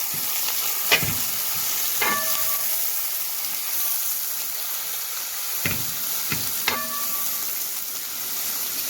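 Ten halved green chillies and five finely chopped onions sizzle steadily in a pan for a vegetable egg stew, a constant hiss punctuated by a few sharp scraping strokes of stirring, with no talking.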